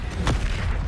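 A Bombardo spell blast in Hogwarts Legacy, one short deep boom with a brief broadband burst, loud and close over a steady low game rumble.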